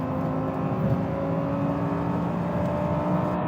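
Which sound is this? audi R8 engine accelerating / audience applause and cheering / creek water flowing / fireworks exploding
audi R8 engine accelerating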